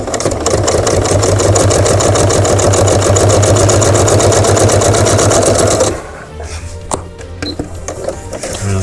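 A Janome Skyline S5 sewing machine stitches through handbag leather scraps, running as a loud, steady rapid mechanical hum for about six seconds before stopping, followed by quieter clicks and handling noises.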